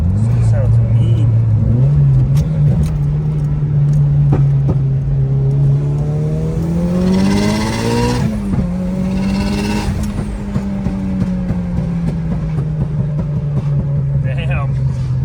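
A turbocharged Acura TSX running 18 psi, or a 600 hp Mitsubishi Evo, drones steadily and loud from inside the cabin, its engine note climbing as it revs and accelerates, then settling again under a rough, rumbling exhaust.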